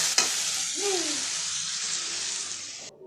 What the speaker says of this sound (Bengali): তার মধ্যে আমি আলু দিয়ে দিতেছি।